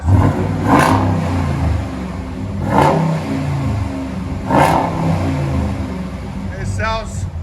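A truck's engine revs through a freshly installed true dual exhaust: a steady loud idle rumble broken by three strong throttle blips roughly two seconds apart, each swelling and falling back, with a short chirp near the end.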